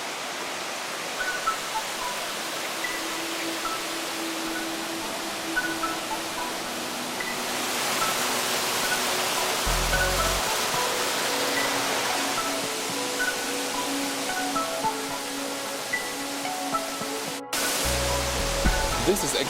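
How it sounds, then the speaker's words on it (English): The Cataracti waterfall in the middle of Lefkada, Greece, roars as a continuous broadband rush of falling water, loud and steady with faint speech-like murmurs under it and a brief break near the end. "This is actually Lefkada 2, a very pretty waterfall in the middle of the island."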